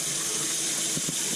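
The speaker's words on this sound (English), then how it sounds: "pretty much all the water to drain out of it." Water drains steadily from cooked cabbage sitting in a strainer. It makes a continuous close trickle and splash, like a running tap, with no talking.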